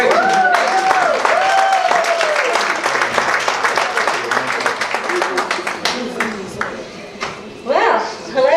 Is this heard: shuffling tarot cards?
no